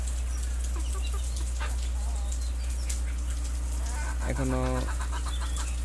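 A domestic desi hen on a small farm kept alongside ducks gives a brief clucking call near the end, over a steady low hum and outdoor background, with a single short spoken word earlier.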